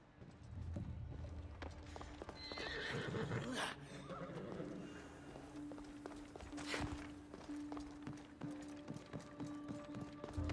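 A horse in a video game whinnies near the start, followed by hoofbeats and movement over a steady background score, with another neigh partway through.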